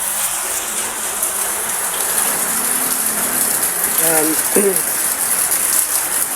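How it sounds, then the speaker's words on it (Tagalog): Steady rain hisses over everything at a construction site, with a brief voice speaking and a few faint tones in the background. "hindi nga namin magawa dahil umuulan"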